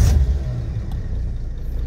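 An old 6-volt car engine catches and settles into a steady, close idle with a low rumbling throb, after a brief louder burst at the start; no talking.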